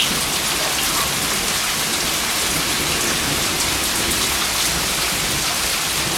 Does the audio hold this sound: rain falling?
yes